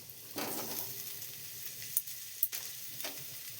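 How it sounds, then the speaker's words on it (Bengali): Potatoes fry in oil with a soft, steady sizzle at close range, broken by a couple of sharp clinks or pops, quiet overall and with no talking. "আলুগুলোকে তেলে নিয়ে ভাজলাম করে নেব"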